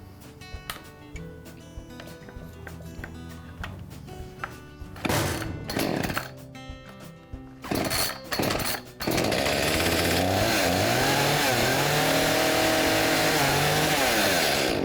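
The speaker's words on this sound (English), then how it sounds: "And I'll try to start the engine again, making sure that as soon as the engine fires, I put the choke back in or open." A flooded chainsaw engine is cranked with a few ragged pull-start bursts that sputter and cut out, then it catches and runs at a loud, sustained buzzing rev for the final five seconds.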